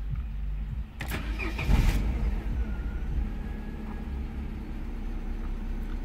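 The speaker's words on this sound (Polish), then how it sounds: "Ok, od razu zauważamy równą pracę silnika i taki efekt chcieliśmy uzyskać." An Opel Astra G engine cranks briefly and catches after a spark plug change, then settles into a steady, even idle that rumbles close by.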